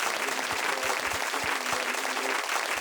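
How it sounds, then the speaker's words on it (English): An audience applauds steadily and densely for nearly three seconds during a podcast recording, the clapping even and sustained with a few soft low thumps underneath. "we're gonna give him an applause for that"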